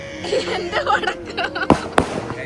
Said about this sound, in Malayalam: ഏട്ടന്റെ ബർത്ത്ഡേക്ക് പൊട്ടിക്കാൻ പൊട്ടുന്നുണ്ട് സാധനം